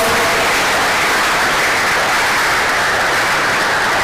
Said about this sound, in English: Keep clapping till he says.